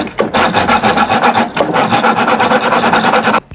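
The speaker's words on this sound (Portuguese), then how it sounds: "Ou um serrote, são ferramentas de corte" A handsaw cuts through a piece of wood in a luthier's workshop, giving a close, loud, steady rasping rhythm of rapid strokes that runs unbroken for about three seconds and then stops.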